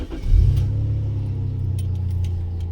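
A 1989 Jaguar XJS 3.6 litre engine cranks and catches, settling into a steady low idle rumble, with a few faint clicks above it.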